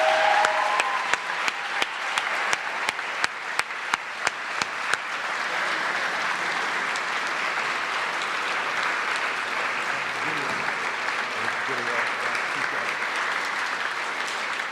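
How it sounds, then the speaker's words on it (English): Audience at a college awards convocation applauds its award recipients, a sustained round of clapping lasting about fifteen seconds with sharp claps standing out near the start before settling into a steady wash. "join me in one more round of applause for all our amazing award recipients."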